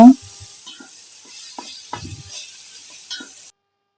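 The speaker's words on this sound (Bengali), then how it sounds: "এই যে এখন আমি এখানে রসুন বাটা দিয়ে দিলাম আদা বাটা দিয়ে দিলাম আবার একটু কষিয়ে নেব" Garlic and ginger paste for a mutton head curry is fried and stirred, giving a soft steady sizzle with a few scattered scraping clicks from a spoon, close but faint, before cutting to silence.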